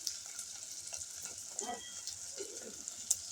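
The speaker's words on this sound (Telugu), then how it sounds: "ఇప్పుడు శామగడ్డ వేసుకుందాం" Taro pieces fry in hot oil, a soft, steady sizzle with a few faint stirring scrapes, close and quiet.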